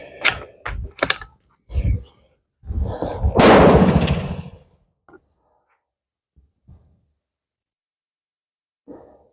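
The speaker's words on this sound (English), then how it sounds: "It's still shooting high. That's 2 shots, and they're in the same place." Sharp, close shots crack from a scoped Beretta Olympia rifle, loud against quiet surroundings. Between the bursts come some thumps and handling noises.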